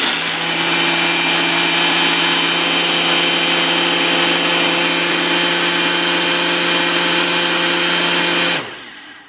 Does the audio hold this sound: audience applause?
no